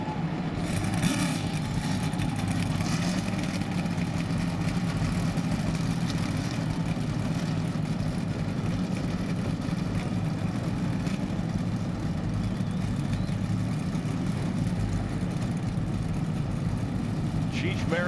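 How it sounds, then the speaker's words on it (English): NASCAR Nextel Cup stock car engines rumble at Sonoma Raceway, a dense, steady low roar of many engines idling together with no clear speech. "Gentlemen, fire them up and start your engines!"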